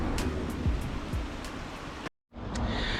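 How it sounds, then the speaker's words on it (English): A small waterfall splashes beneath a bridge on Bardsey Beck, a steady close rush of falling water with faint intermittent clicks on top, briefly cut out near the end before the flow returns. "there's a pretty little waterfall right under this bridge"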